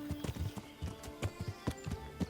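Horse hooves clip-clop in a steady rhythmic gait in the video game Kingdom Come: Deliverance, moderately loud, with a faint whinny-like tone underneath.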